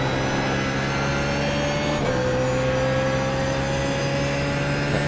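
A BMW Z4 GT3 in a racing video game accelerates at Monza with a steady, droning engine note that rises slowly in pitch, briefly dips around a gear change, then climbs again, loud and close throughout.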